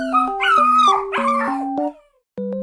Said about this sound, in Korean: 오, 뭐 댕댕이가 뭔가 원하는 게 있는 것 같은데